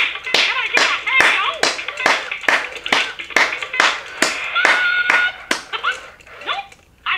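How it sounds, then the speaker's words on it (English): Hands clap in a steady rhythm, about a dozen sharp, close claps in a row during a children's Mickey Mouse dance party game, with higher-pitched voices heard briefly between some of the claps. "Clap your hands."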